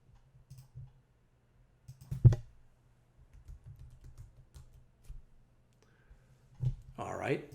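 Scattered light clicks from a computer keyboard, a few sparse keystrokes and one sharper tap, close and quiet, with a brief stretch of speech near the end.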